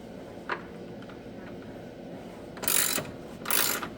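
A ratchet snugs up the door bolts on a car, giving a brief click and then two short bursts of close, bright ratcheting.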